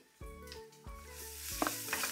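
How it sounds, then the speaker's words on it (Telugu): Spices tempering in a pot, stirred through sizzling hot oil; a steady fry hiss runs throughout, with a few stirring scrapes and clinks near the end. "జస్ట్ ఇదంతా వేసి తాలింపు కలిపేసాను"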